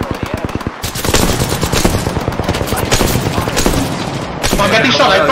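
Rapid automatic gunfire in a battle royale video game, dense bursts of close shots crackling over a few seconds, with a player's voice partly under the shooting.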